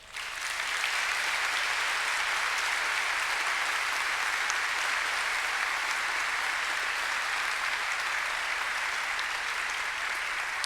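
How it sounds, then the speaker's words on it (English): Sustained applause from a large graduation ceremony audience in a hall, a dense, even wash of many hands clapping at steady loudness throughout, with no voices over it. "show them your appreciation by a round of applause"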